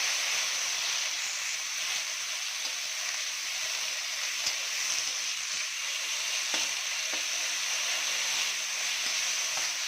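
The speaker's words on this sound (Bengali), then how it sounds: "এবারে একই তেলে আমি গ্রেট করে পেঁয়াজ দিয়ে দিলাম।" Grated onion frying in hot oil left from frying fish, a steady, close, continuous sizzle and hiss with faint occasional clicks, no voices.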